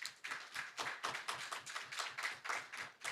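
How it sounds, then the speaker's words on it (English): A small audience claps in a steady, rhythmic unison at an agricultural insurance program launch in St. Kitts-Nevis, every clap sharp and evenly spaced, moderately close and alone without speech. "You must give us a clap for that"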